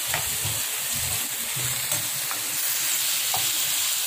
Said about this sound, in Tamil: இது நல்லா ப்ராஸ் மல் போற வரைக்கும் எண்ணெயிலே வதக்கிக்கோங்க.